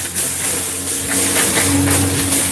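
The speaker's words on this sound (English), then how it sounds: "So I'm just gonna spray some water." Water sprayed onto flare-ups of a shashlik barbecue grill over fire, with fat dripping onto the coals, giving a loud steady hiss that starts abruptly and holds for a couple of seconds, with a low hum beneath.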